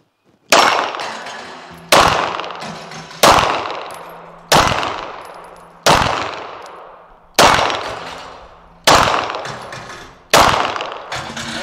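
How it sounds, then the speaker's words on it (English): Eight sharp gunshots from a Cosaint Arms COS11 at an outdoor shooting station, fired at an even pace roughly every one and a half seconds, each loud crack ringing out and decaying before the next. "we're at the third station, and we're gonna do some more shooting here"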